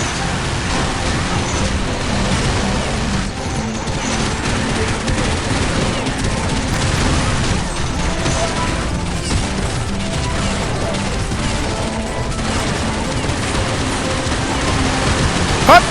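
A gold MG3 machine gun fires in the online shooter Counter-Strike Online, a loud, unbroken stream of rapid gunfire that runs throughout with dense, sustained game noise.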